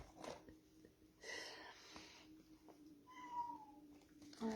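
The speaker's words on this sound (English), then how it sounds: "I think that cat's trying to tell me something over there." A cat meows several times nearby in a quiet room, with drawn-out cries that rise and fall, while a person makes faint sounds in the background.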